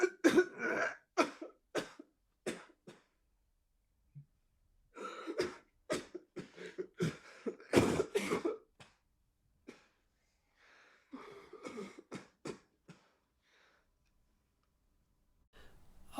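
Repeated coughing comes in several bursts, with throat clearing and breathy hacks between quiet pauses, loud and close with no talking.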